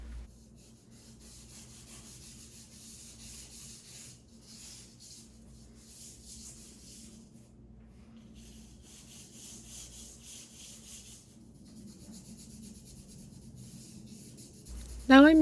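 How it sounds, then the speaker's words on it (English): A blending stump rubs charcoal across paper in a still-life value study, giving soft, close scratchy strokes that come in short bursts with pauses between them, then end in a brief louder bump. "Now I'm using the stump to do some blending"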